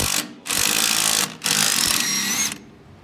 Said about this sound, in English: Right now, I'm gonna be taking off the bolt.